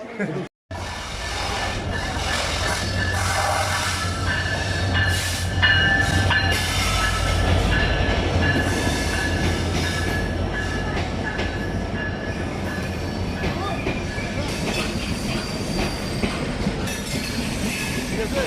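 The Panchagarh Express rolls along with a loud, steady rumble of wheels on rails, rhythmic clatter and occasional squeals, while people talk over it.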